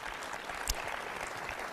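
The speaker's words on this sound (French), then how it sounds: "j'ai le goût qu'on se donne une main d'applaudissement" An audience at a government announcement at a factory gives a round of applause, a faint, steady patter of many hands clapping from a distance, with one sharper clap standing out.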